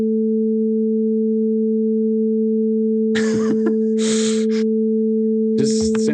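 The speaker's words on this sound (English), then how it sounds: "What if we do like 440? See if we can hear the beats." Two steady pure sine tones hum together continuously in a classroom physics demonstration, one set near 440 Hz, with brief breaths and faint noises in the second half.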